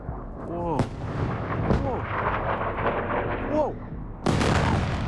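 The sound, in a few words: explosions from heavy warhead strikes in Israel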